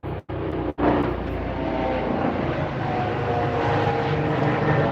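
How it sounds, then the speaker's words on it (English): A helicopter flies overhead near a hospital, its loud, steady rotor and engine roar filling the clip after a couple of brief dropouts at the start. "That was a helicopter, John."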